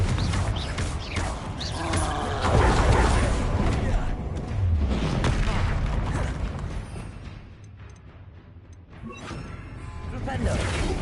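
Explosive blasting spell bursts in Hogwarts Legacy combat, heavy booming impacts with crackling debris and rumbling low end, repeated amid other spell effects and a player's voice calling spells over the action.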